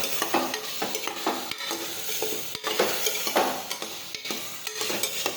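Chopped tomatoes being stirred in a cooking pan, a rhythmic series of wet scrapes and clinks of the spoon against metal over a soft sizzle, close and moderately loud.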